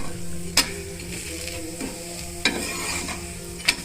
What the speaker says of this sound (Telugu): ఇంకొక వైపు కూడా ఒక 1 minute మీడియం ఫ్లేమ్లోనే కాల్చుకుంటే బాగుంటుంది దోశ.